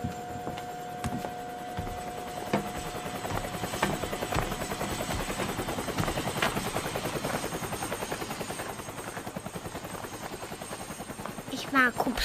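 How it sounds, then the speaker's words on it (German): Helicopter flying in a German-dubbed children's cartoon: a steady, continuous rotor drone with fine rapid pulsing runs the whole time, fairly loud, under scattered cartoon sound effects and voices. "Hubschrauber."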